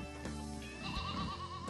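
Hereford pigs being loaded onto a new farm trailer, squealing and calling in a steady run of close, loud, pitched cries that rise and bend, with no talk over them.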